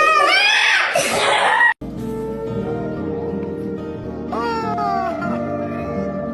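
A cat yowls loudly with rising, wailing cries, then after a short gap drawn-out meows continue over a low background.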